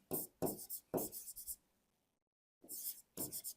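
Pen or marker writing notes on a surface, several short scratchy stroke bursts with a pause in the middle, close and quiet.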